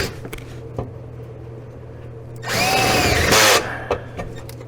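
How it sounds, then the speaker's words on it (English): A power drill bores holes for a snow plow mount plate on a side-by-side, one loud burst of about a second with a high whine, between quieter handling noises and knocks. "hopefully get the rest of this drilling done"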